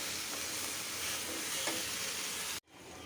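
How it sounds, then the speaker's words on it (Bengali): Spinach frying in a pan of Bengali palong puti, stirred with a steady wet sizzle and scraping close up, the sizzle running continuously and then cut off abruptly near the end as a lid goes on. "এখন শাকটা ঢেকে দেবো তো নাড়াচাড়া দিয়ে।"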